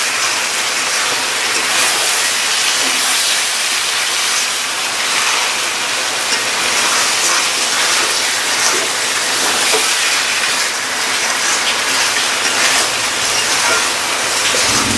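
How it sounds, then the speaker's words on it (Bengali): Country chicken frying with dried chili powder for chicken kosha gives a loud, continuous broadband sizzle that stays steady throughout, with no talking. "ভালো করে মাংসটা কষিয়ে নিই।"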